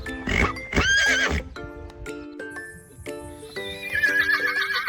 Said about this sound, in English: Horse runs very fast. It says neigh neigh.